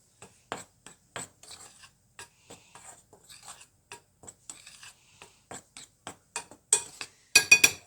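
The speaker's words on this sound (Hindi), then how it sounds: "अच्छी तरह से तमाम बैटर को हम मिक्स कर लेंगे" Batter for chicken popcorn being mixed in a bowl, giving a run of short scraping and rubbing strokes, utensil against dish, steady and close, growing louder and busier toward the end.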